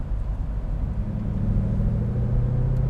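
Steady engine rumble from a 2017 Ford Mustang GT convertible in track mode, a deep continuous drone held at an even level while cornering gently, with no talk.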